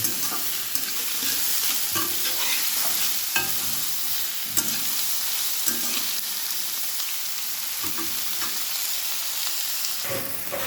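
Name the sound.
onions frying and stirred in pan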